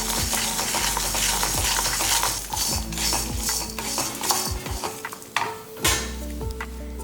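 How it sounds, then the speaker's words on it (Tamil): Garlic, shallots and tamarind roasting in a pan for chutney, a close sizzle broken by frequent clinks and scrapes of a metal spoon stirring against the pan, with no voices. "எல்லாமே என்ன பண்ணலாம், நல்லா இந்த சட்டிலேயே வச்சு லேசாக வறுத்துக்கலாம்."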